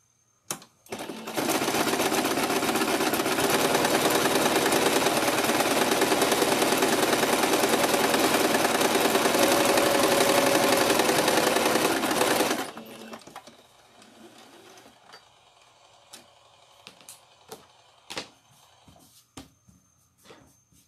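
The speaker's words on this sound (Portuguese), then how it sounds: "Aqui nós vamos bater um pé de máquina, tá?" Fast, continuous whirring and rattling of a sewing machine stitching around a cloth rag doll, loud and steady for about eleven seconds, then stopping, followed by quiet handling clicks and someone talking.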